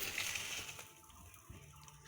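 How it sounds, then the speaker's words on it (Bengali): Water is poured into a cooking curry of boiled eggs, masoor dal and potatoes in a short, soft gush that fades to a faint sizzle and bubble. "এবার কষানো হয়ে গেছে, জলটা দিয়ে দিলাম।"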